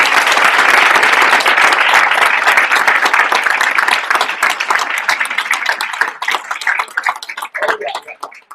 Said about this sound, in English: could you give them a big round of applause